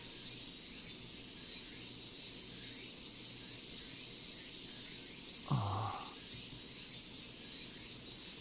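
A cicada chorus in the visual novel game Tsukihime, a dense, continuous high-pitched droning buzz that stays steady throughout, with one brief low thud partway through.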